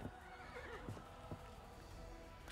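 Horses neigh and whinny over clattering hooves in a video game scene with a four-horse chariot, the calls rising and falling against a busy, steady background.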